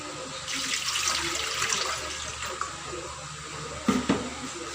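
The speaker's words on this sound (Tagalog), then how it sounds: "Lalagyan natin siya ng tubig." Water runs steadily from a tap into a cooking vessel while steamed fish is being prepared, a continuous close splashing stream followed by a couple of light clinks near the end.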